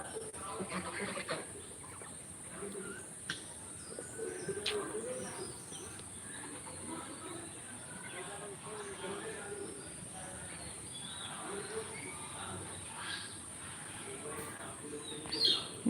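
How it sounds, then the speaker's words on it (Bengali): Desi village chickens clucking and chirping in a rural yard in the late afternoon, scattered calls over a steady hiss of outdoor background, fairly faint and spread through the clip, with a few short bursts near the end. "এই যে দেখুন দেশি মুরগি"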